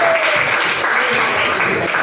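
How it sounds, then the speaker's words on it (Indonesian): A classroom applauds a student group after its presentation in a religious education lesson: a short, continuous burst of clapping from many hands, loud and close, with no clear voices on top. "Tepuk tangan untuk kelompok."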